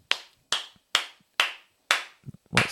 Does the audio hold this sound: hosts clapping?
yes